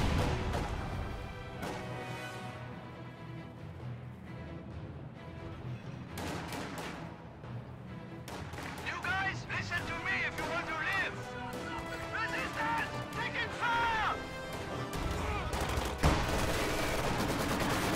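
A World War II strategy video game battle with Panzer IV tanks and a field gun, rapid bursts of gunfire, machine-gun rattles and heavy booming impacts crowding together, with a commentator talking over much of the action.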